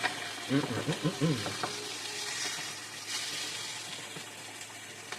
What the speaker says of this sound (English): Big fucking sizzle.